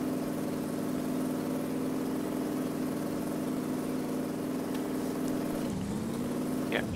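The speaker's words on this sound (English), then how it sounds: "oh, no wonder this truck is loud." A loud, straight-piped truck engine idles in the Mudrunner off-road game with a continuous droning rumble, then the pitch dips and shifts briefly near the end.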